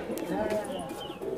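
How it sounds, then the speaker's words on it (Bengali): A male Nazra Chotiyal pigeon coos softly in a loft, low murmuring calls running under nearby voices for just over a second. "নাজরা চটিয়াল নাজরা নর কবুতর"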